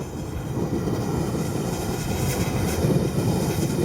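A gas forge burner runs steadily at about 13 to 14 PSI during a first firing with canister Damascus inside, giving a continuous, fairly loud broadband roar that stays even throughout with no voices.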